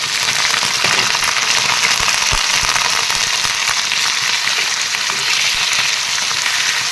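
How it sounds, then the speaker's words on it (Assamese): Chicken pieces are tipped into browned onions in a hot pan and fry loudly, giving a dense, continuous sizzle with a few faint stirring knocks beneath it. "ইয়াতে এতিয়া মই মাংসখিনি এয়া দি দিম।"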